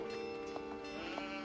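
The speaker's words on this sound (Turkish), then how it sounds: "Abi, koyun da burada var." Sheep in the real-time strategy game Age of Empires 4 give two or three short, soft bleats over a steady droning game soundtrack with harmonic tones, faint and somewhat distant in the mix.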